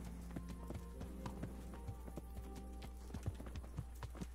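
Horse hooves clip-clop in the medieval video game Kingdom Come: Deliverance, a steady, fairly faint walking rhythm of hoof strikes over a low constant hum, with no talking.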